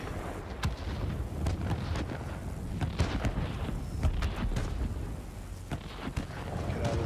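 Anti-aircraft fire bursts around a Tier VII Russian Yakovlev Yak-3 fighter in World of Warplanes: repeated sharp flak cracks and booms scattered irregularly over a continuous low engine drone, moderately loud.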